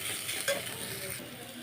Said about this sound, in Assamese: মোৰ ঢেকীয়াখিনি ধুনীয়াকৈ খাব পৰাকৈ ভাজি ল'লোঁ